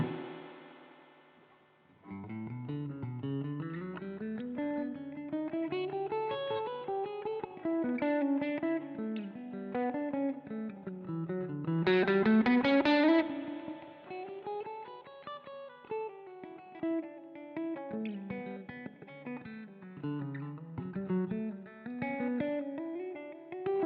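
Electric guitar with distortion and some reverb plays a flowing compound practice exercise, continuous winding melodic lines rising and falling for over twenty seconds, fairly quiet and alone.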